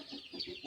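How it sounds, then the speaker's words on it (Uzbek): A fighting-breed rooster clucks in a short burst of low throaty calls, fairly faint and close, with no talk. "Xo'roz o'ta yo'ldor xo'roz."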